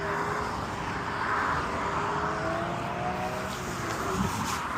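A car engine revs as the vehicle passes by outdoors, a steady loud roar with rising pitch sweeping across the whole stretch, no voices over it.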